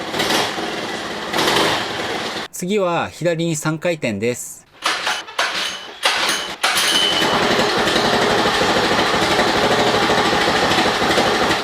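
A Honda 2-horsepower outboard motor with a replacement carburetor idles during fuel mixture adjustment. Someone talks briefly over a light engine rattle, then a steady, close idle runs alone.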